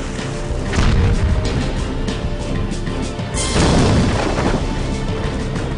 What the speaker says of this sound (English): I can't stay in that cannon fire for long.